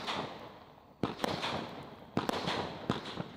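A handheld firework fountain fires its shots, with a hissing spray punctuated by several sharp, loud cracks arriving in small clusters at irregular intervals.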